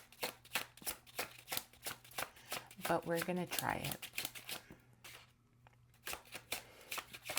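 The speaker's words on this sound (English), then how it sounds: "Let's do one more shuffle" Tarot cards riffle and slide in a quick shuffle, crisp close-up flutters and taps in a steady rhythm, with a person talking briefly alongside.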